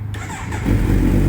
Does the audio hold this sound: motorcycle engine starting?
yes